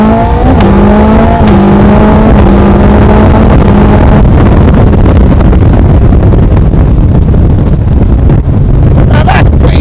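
A Suzuki Hayabusa with a flat-shifter revs hard at full throttle, its loud engine note climbing and dropping through several quick gear changes, with heavy wind noise buffeting throughout.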